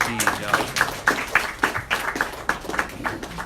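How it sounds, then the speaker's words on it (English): A small audience claps steadily for a visiting swami after a kirtan program, the separate hand claps sharp and fairly close, with voices talking through the applause. "Let's have another round of applause for His Holiness Bhakti Rasayana Sagar Maharaj"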